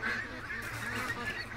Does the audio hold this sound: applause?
no